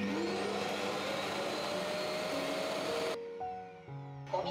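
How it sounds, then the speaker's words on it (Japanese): A Neabot NoMo Q11 robot vacuum's charging station empties dust into its bag with a loud, steady whooshing roar. It cuts off abruptly, and a few quieter electronic tones and clicks follow. "ゴミパックがついていて、自動でゴミ収集をしてくれるんです"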